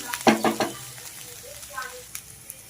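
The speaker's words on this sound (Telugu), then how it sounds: "ఇప్పుడు ఫ్రై అయిపోయింది కదా" Ivy gourd (dondakaya) frying in a pan gives a soft sizzle under a few brief stirring scrapes and clatters near the start, with a short voice fragment partway through.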